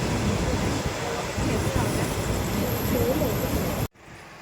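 Express train 133 from Bangkok Apiwat to Nong Khai runs with a steady, loud rolling rumble and clatter heard from inside, ending abruptly in near silence.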